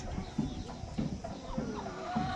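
Three large roosters kept for sale give a few low clucks at a regular pace, close by, over a faint background hum.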